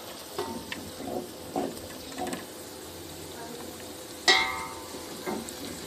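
Chopped onions browning in a pan for aloo gosht, a soft sizzle and frying hiss with intermittent stirring scrapes and a sharp clink of utensil on the pan, while someone talks over it.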